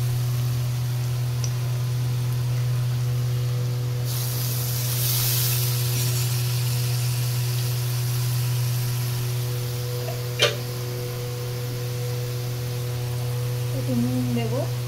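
Water is added to a turmeric spice mix frying in a pan for egg curry, setting off a short burst of hissing sizzle over a steady low hum, with faint talk nearby.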